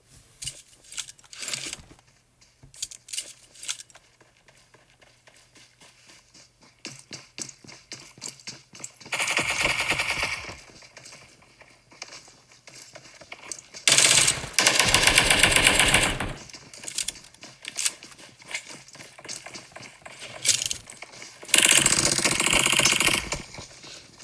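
Video game gunfire in PUBG during a competitive esports scrim: rapid bursts of automatic rifle fire crackle through the match, with several loud sustained volleys and scattered single shots and ticks in between, no talk over it.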